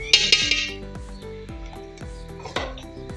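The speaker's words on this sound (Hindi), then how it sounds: "1 टेबल स्पून भर के इसके अंदर नमक डाल रही हूँ।" A tablespoon of salt goes into a bowl of pakora batter with potato, spinach and cabbage: repeated clinks and taps of metal against the dish, a quick cluster at first, then steady knocks with a brighter scrape near the end.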